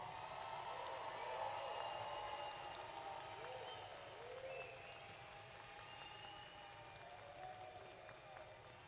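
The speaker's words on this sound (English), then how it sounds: "Let's give them all a round of applause." A crowd at a 2021 high school graduation ceremony applauds the graduating class, a broad, sustained patter of clapping mixed with murmuring that eases slightly as it goes on, heard from some distance.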